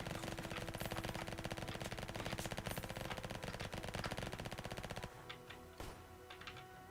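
Automatic gun in the video game Flag Wars firing a rapid, evenly spaced stream of shots for about five seconds, then stopping with a few faint sounds afterward.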